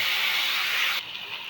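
Potatoes and stem vegetables hit hot oil seasoned with cumin, giving a steady, loud, close sizzling hiss that drops sharply in strength about two-thirds through and carries on more softly.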